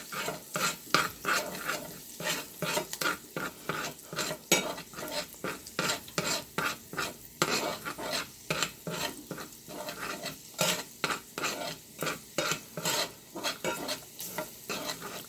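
Half a teaspoon of cumin sizzling and being stirred in a pot while cooking Trinidadian dhal, a steady fry hiss broken by rhythmic scraping strokes of a spoon, close and moderately loud, with no talking.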